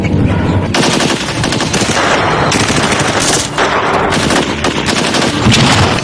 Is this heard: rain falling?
no